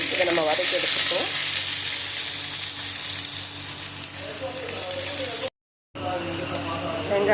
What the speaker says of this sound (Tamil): 2 பச்சை மிளகாய், ஒரு பெரிய வெங்காயம், இதை நம்ம வதக்கி எடுத்துப்போம்